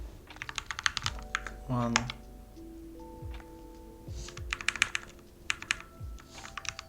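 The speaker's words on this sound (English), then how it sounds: "I'm not used to this keyboard yet." Typing on a computer keyboard during web design work, with bursts of crisp key clicks in quick clusters, close and distinct, alongside brief tones, thuds and a short stretch of soft talk.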